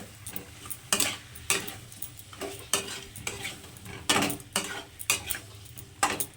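Chicken sautéed with spices in a pan gets repeated rhythmic scrapes and knocks from a stirring utensil over a soft sizzle, close up, with no voices.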